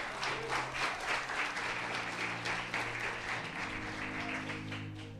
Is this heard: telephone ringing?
no